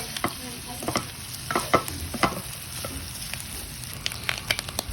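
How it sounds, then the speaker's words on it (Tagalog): Pinapaitan sautés in a pan with a continuous close sizzle and scattered sharp crackles and pops. No voices. "Ginigisa na natin. Pinapaitan."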